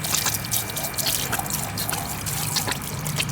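Car parts from a Toyota KP30 build being washed with soapy water, a steady wet splashing and dripping trickle running close and continuous throughout.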